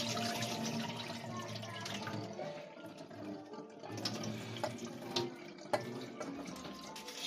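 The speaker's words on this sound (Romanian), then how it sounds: "Și am scurs toată apa." Water draining from soaked rice into a sink, a steady trickling and splashing pour with louder splashes near the end, close by.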